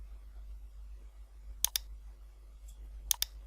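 Computer mouse clicks while selecting Find in MS Word 2019: two quick double clicks, sharp and close, separated by about a second and a half of quiet room hum.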